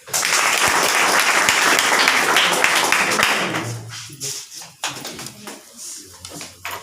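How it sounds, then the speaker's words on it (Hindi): Dense audience applause at a group meeting, welcoming first-time attendees, loud and sustained for about three and a half seconds, then thinning into scattered claps and taps as it fades. "चलिए, इनके लिए एक जोरदार ताली।"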